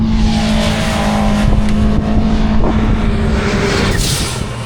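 A 2025 Polaris Slingshot backing up in reverse gives a loud, close, steady engine drone with a constant hum and no voices.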